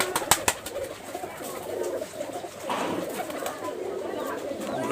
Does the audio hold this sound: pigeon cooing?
yes